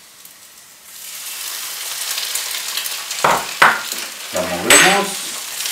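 Egg whites frying over very low heat in a pan with sautéed boletus mushrooms: a steady soft sizzle that swells as the whites go in, with scraping stirs and pan clatter, and a brief spoken Spanish line.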